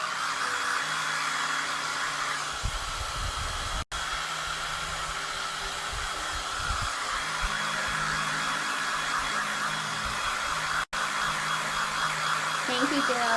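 A hair dryer blows steadily and close up to dry paste on a farmhouse-style Christmas craft scene, a continuous loud whooshing hum with two brief cut-outs, and a voice talks faintly underneath.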